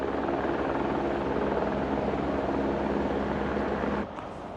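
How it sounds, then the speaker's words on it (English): CHP rescue helicopter hovering close by on Mount Whitney, a loud steady rotor roar that holds unbroken, then drops abruptly as it settles down to land. "it turned out to be a CHP helicopter."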